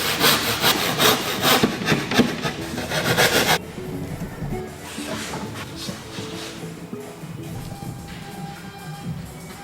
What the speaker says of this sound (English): just a good old handsaw and a measuring tape